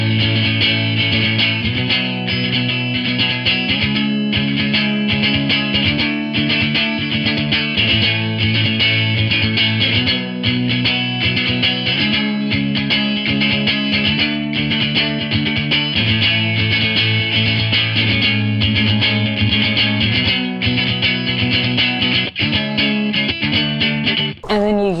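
Electric guitar played through a Line 6 HX Stomp with chorus and distortion, a sustained loud driven tone moving through shifting chords and riffs for the whole stretch before ending abruptly.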